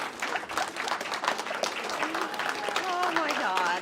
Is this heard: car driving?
no